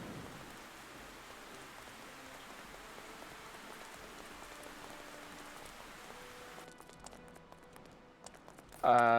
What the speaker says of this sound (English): Get indoors out of the rain.